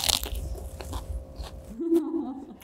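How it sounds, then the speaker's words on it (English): Someone bites into a salmon burger topped with romaine lettuce, onion, bacon and tomato, giving a close crisp crunch followed by quiet chewing. "and the crunch of the romaine."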